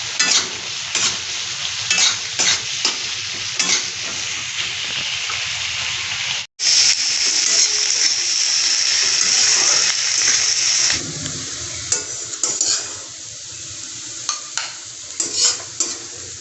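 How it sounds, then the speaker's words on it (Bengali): Sliced onions with green chilies and salt fry in a pan, giving a loud, continuous sizzle broken by repeated stirring scrapes. A short gap comes partway through, and then a brighter hiss that later eases into quieter frying. "আমার পেঁয়াজটা ভাজা হয়ে গেছে"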